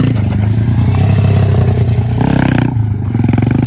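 A pit bike engine revs hard on a dirt track, loud buzzing rising and falling, with rattling clatter and a sharp drop in pitch near the end.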